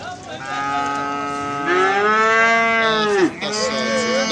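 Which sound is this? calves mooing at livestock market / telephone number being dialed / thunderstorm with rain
calves mooing at livestock market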